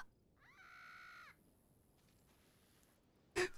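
A bird calls in The Sims 2 Castaway, a stranded-on-a-desert-island game: a faint, sustained harmonic cry with a rising onset holds for about a second, followed by quiet ambience and a brief louder burst at the end.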